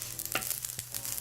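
Garlic sizzles in a hot pan with a soft, crackling hiss, punctuated by a few quick scraping stirs, close and fairly quiet over a brief moment.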